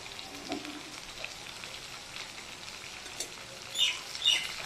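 Fish fry in a pan while being stirred, giving a faint, steady sizzle with a few soft scrapes and two brighter clinks near the end; nobody speaks.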